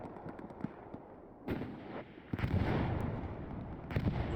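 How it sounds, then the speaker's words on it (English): Explosions and gunfire crack across a Hell Let Loose World War II battle, several sharp blasts and distant pops over a rumbling background, moderately loud. "A lot of explosions going off though."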